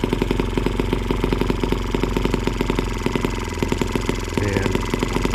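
Small M12B engine running on white fuel, a steady rapid chugging idle with even mechanical clatter, loud and close, alone without talk.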